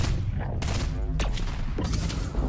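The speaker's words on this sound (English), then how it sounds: "They're shooting the cube, bro." Rapid gunfire from several players in Fortnite peppers a cube, a dense crackling fusillade of shots over a constant low rumble, loud and close throughout.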